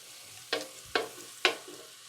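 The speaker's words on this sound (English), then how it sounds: "just saute my garlic." Garlic sautéing in oil for chimichurri: three sharp, evenly spaced scraping strokes of a utensil in a pan over a faint background sizzle, close and fairly loud.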